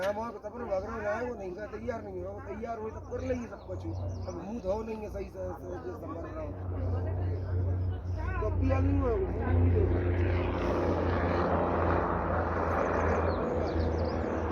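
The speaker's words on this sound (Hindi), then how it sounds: "हेलीकॉप्टर जाती आ रही है," A steady low rumble of a passing helicopter at Kedarnath grows louder midway, heard under ongoing Hindi talk from several people outdoors.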